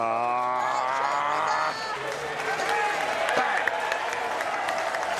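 A crowd at a 2014 Bowls Premier League lawn bowls match applauds and cheers a good bowl, a steady wash of clapping that rises after a voice at the start and continues throughout.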